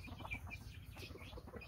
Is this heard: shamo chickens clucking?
yes